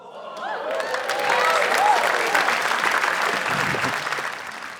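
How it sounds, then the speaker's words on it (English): Audience applause at a live stand-up comedy show, a sustained wash of clapping that swells and then slowly tapers, with cheering and whoops mixed in from the crowd. "Half the people clapped."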